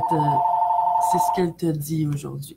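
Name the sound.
telephone ringing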